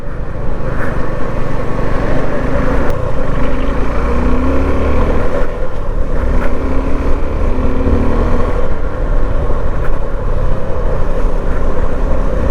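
Suzuki V-Strom 250 SX motorcycle, a 250cc bike, riding on a road during a 2024 test ride; a steady, loud engine drone blends with wind rush throughout, with no talk.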